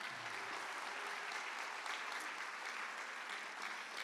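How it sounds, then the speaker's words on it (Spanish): Audience applause at a business presentation, a sustained even wash of clapping from the room, fairly distant and soft, continuing without a break. "fuertes aplausos para ustedes"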